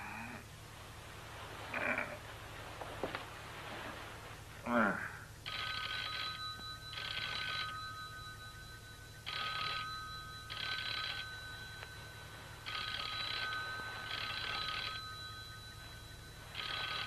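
An old-style telephone bell rings in repeated double bursts, steady and fairly clear, after a few faint knocks and rustles at the start.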